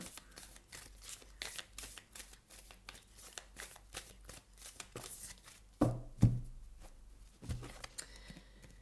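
Tarot cards shuffled by hand in a steady run of soft, papery riffles and flicks, close and fairly quiet, ending with a few sharper slaps as cards are laid down.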